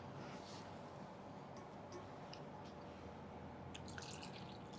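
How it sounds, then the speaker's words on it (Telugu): Water poured onto jaggery in a kitchen to make panakam, a steady splashing, dripping trickle at close range with a few brighter drops near the end, no talking. "నీళ్ళు పోయమ్మా"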